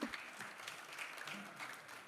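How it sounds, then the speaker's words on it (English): Applause from an audience at a talk on elections and democracy in Nigeria, a steady patter of clapping that carries on for about two seconds at low volume, with no voices over it. "let's clap for Nigeria"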